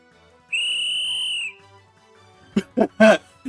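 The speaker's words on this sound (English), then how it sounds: "I blow the whistle Toyama gave me as hard as I can. The sharp sound echoes in the night" A whistle blown hard at night in the game Master Magistrate gives a single sharp, sustained high tone lasting about a second, followed by several loud, short percussive hits near the end.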